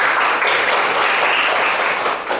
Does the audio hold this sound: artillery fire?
no